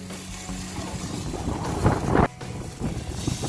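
Strong wind buffets the microphone in a continuous roar, surging briefly louder before easing, with no voices.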